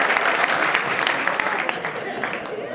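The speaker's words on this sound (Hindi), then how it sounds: "एक बार इनके लिए भी तालियां हो जाए" An audience at a kavi sammelan poetry gathering at the Kishanpur mela claps in a dense, steady round of applause that carries through the whole moment without pause.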